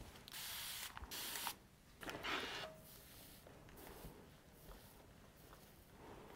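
An iron presses apron ruffles, giving hissing bursts of steam in a few short spurts followed by soft rubbing and faint handling.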